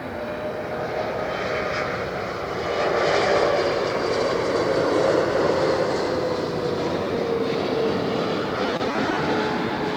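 A jet airliner lands at LAX with a steady, loud broadband engine roar that swells slightly midway and holds for the whole stretch, heard from outside without any talk.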